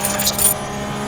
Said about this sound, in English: Sounded like jingling car keys.